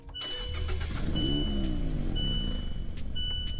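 A small four-cylinder car engine in a video game cranks and catches, settling into a steady idle, with intermittent high electronic beeps sounding over it.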